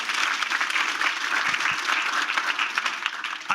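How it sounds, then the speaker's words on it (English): An audience at a panel discussion on American history gives a warm, continuous round of applause, a dense wash of clapping that holds evenly from start to finish with no speech over it. "first applause for that"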